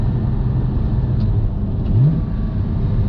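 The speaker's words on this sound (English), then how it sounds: "So the auto blip works really well" A Porsche GT4 engine rumbles steadily close by with a quick rise in revs near the middle as the auto-blip matches revs on a downshift, loud and without talk.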